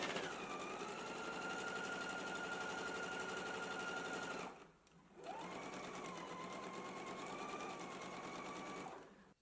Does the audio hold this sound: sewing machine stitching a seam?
yes